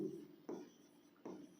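Pen strokes scratch across paper during a Class 10 maths lesson, three short faint bursts of writing separated by brief pauses, close and quiet.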